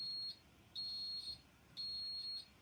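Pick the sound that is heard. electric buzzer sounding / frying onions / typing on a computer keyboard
electric buzzer sounding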